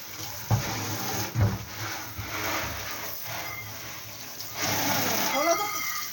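Water splashing and running during dishwashing in a home kitchen, a continuous hiss with knocks of utensils, heard close to the microphone as someone talks over it.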